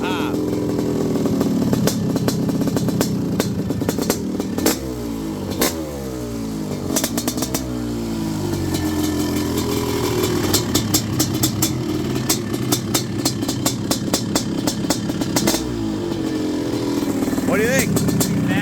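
Honda CR500R two-stroke motorcycle engine revving hard and close, a loud, continuous crackling roar that rises and falls through repeated throttle blips over the whole stretch.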